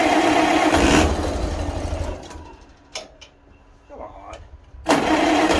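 A Farmall Cub tractor engine tries to start in cold weather, cranking and catching in loud bursts that drop away then roar back, with a voice speaking briefly in between.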